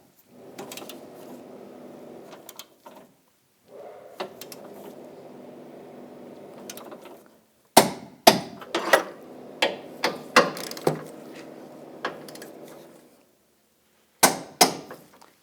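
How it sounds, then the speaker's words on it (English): A torque wrench tightens the front bumper bracket bolts on a 2014-2018 GMC Sierra to 74 foot-pounds. Soft ratcheting clicks run in bursts and are followed by a series of sharp, loud metallic clicks close by. "Now we're going to torque these bolts to 74 foot-pounds."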